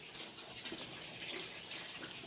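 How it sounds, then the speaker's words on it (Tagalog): Tap water flows freely into a washing machine on a dry, hot farm, making a steady, even rush that stays constant and fairly faint throughout. "Yan guys, dami tubig, oh. Free flow."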